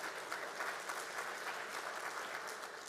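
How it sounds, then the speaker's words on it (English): An audience at a school district State of the District event applauds, a dense, even wash of clapping from many hands lasting the whole moment, moderately distant and steady. "Chris, if you're here, give him a round of applause."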